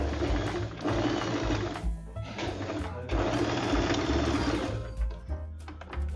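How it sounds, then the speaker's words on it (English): A sewing machine stitches two fabric strips placed right sides together along a diagonal seam, its steady motor whir running loud and close in continuous bursts with brief pauses between. "Place them right sides together and sew them diagonally."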